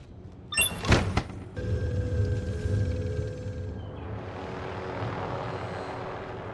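A helicopter in the video game Call of Duty Warzone whirs with a steady rotor drone after a loud burst of noise at the start, with a rising rush of wind toward the end.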